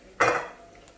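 A utensil knocks against a serving dish while rice kheer is dished out, one close, bright clink with a short ringing decay, then quiet with a faint tap at the end.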